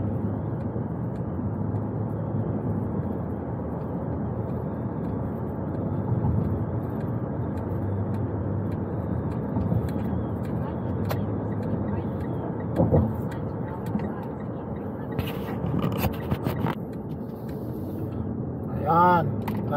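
Steady road traffic flows along the wide multi-lane Sheikh Mohammed bin Zayed Road in Dubai, a continuous broad rumble of passing vehicles with a few brief sharper sounds near the end.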